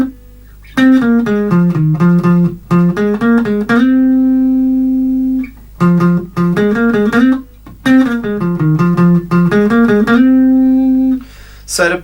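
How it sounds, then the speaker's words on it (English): Single-note electric guitar riff, the live part played by Bongo Starkey: quick plucked notes descending in repeated phrases, each ending on a held sustained note, clear and close with no talk. "we have a single note riff going and some chords that are being plucked"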